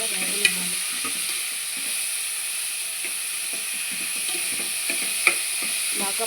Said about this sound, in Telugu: ఆనియన్స్ క్యాప్సికమ్ వేసి బాగా వేగనివ్వాలి.